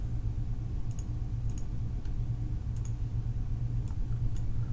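Computer mouse clicks while working in ticketing software: a handful of faint, sharp single clicks spaced a second or so apart over a steady low background hum.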